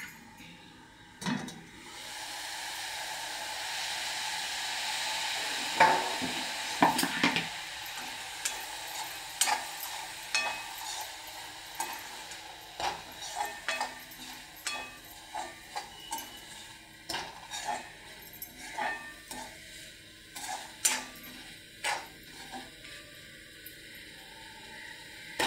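A spoon stirs cabbage bhaji in a pan, making a long series of irregular metallic clinks and scrapes against the pan over a faint frying hiss, with some speech early on.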